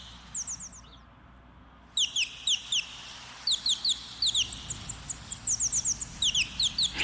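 Temminck's tragopan, a pheasant, gives repeated short, high, sharp calls in quick clusters, fairly close over a quiet background hum.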